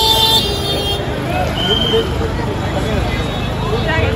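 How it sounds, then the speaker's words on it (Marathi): A traffic jam in a crowded Mumbai wholesale market street, where car and bus horns toot over rumbling engines and a hubbub of voices from the crowd, loud and close throughout. "गाड्यांचा जाम."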